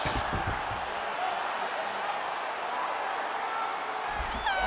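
Applause and a steady crowd roar fill a UFC fight arena after a grappling exchange: a dense, constant wash of clapping and cheering, fairly distant and even, with a brief bright squeak near the end.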